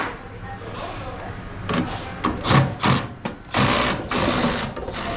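Power screwdriver driving screws into an LG Multi V ducted air handler during a service call, heard as several short whirring bursts with a mechanical buzz, close and fairly loud, with pauses between them.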